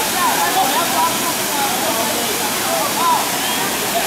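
River water rushes steadily in a broad, loud hiss, close and unbroken, with faint voices now and then.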